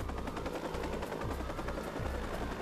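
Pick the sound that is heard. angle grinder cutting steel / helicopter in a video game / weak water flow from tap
helicopter in a video game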